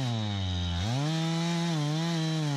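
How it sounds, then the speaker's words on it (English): Stihl chainsaw engine cutting through 16-inch maple timber, a loud, steady high-revving whine that dips briefly as the chain bites into the wood, then settles into a sustained cutting drone, with no talk. "You'll notice how easily my still sliced through that 16-inch timber."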